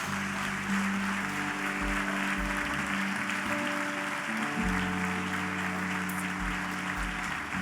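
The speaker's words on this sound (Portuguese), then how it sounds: "Aplauda ao Senhor bem forte" Church congregation clapping loudly and steadily throughout, a dense sustained applause with low organ or keyboard tones and a faint voice beneath.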